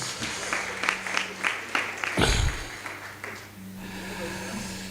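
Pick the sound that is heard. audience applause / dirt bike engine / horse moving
audience applause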